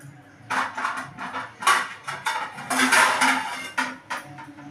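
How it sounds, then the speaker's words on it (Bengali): Steel tiffin box set into a cooking pot for steaming dim bhapa, then covered with a lid: a string of close metallic clanks, scrapes and knocks in an irregular rhythm, ending with lid clatter. "দেখুন বন্ধুরা, টিফিন বক্সটা আমি বসিয়ে দিলাম। বসিয়ে আমি একটা ঢাকা দিয়ে দিলাম।"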